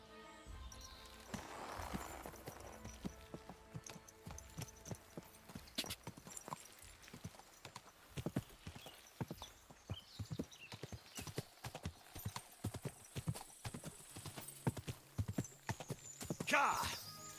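A horse's hooves clip-clop steadily on the ground in the Kingdom Come: Deliverance II video game, close and rhythmic, with a whinny and game music underneath and voices speaking at times.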